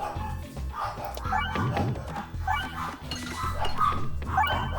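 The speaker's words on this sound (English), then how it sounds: "Dogs are going crazy." Several dogs bark and yip in repeated bursts, fairly close and loud, over a steady bed of background music.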